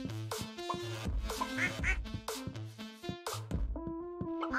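Ducks quacking on a farm in the video game Stardew Valley: repeated short, nasal quacks in an uneven rhythm, fairly clear and close, with tonal game music underneath and no talking.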